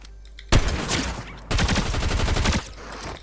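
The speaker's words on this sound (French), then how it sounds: "Il y a celle-là, la double, qui tire ultra rapidement." A submachine gun in a video game fires in two rapid, dense bursts, loud and close, each lasting about a second with a short pause between.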